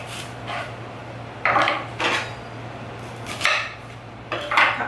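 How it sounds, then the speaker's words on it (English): A knife slicing an onion on a cutting board: a few separate scraping, crunching cuts spaced a second or so apart, close and moderately loud over a low steady hum. "let's get this onion cut"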